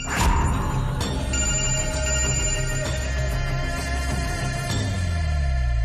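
A phone rings with a loud, close melodic ringtone, its tones layered and sustained for several seconds, with no voices.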